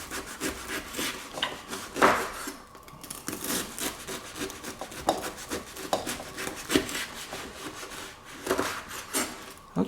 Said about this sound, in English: you can see I'm already able to cut this into really small strips